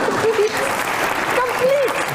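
Studio audience applause on a Pakistani comedy program, steady and fairly loud under a voice speaking over it throughout.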